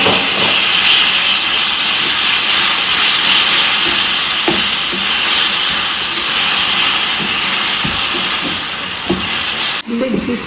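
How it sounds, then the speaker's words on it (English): Ginger paste sizzles loudly in a hot pan, a steady broadband hiss with faint scraping clicks from stirring, ending with a brief clatter near the close. "We'll go ahead and add our ginger paste. Stir it in."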